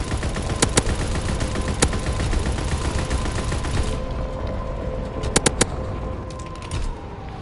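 Aircraft gunner machine-gun fire in the Call of Duty WW2 video game: sustained rumbling battle noise with sharp gunshot cracks, a few isolated shots early and a rapid cluster of bursts later as the din thins out.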